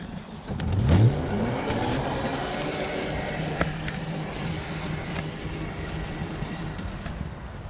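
A Maxpow EX3S UTV (Mototec Raider) accelerates in first gear, its engine rising briefly near the start and then holding a steady drone, with wind rushing over the microphone and no clear talk.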